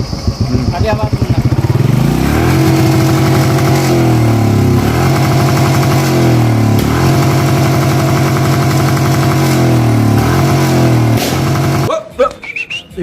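A Royal Enfield Bullet 350 motorcycle engine revs up close and loud, its thumping exhaust note rising and falling in several repeated throttle blips before the engine drops away near the end.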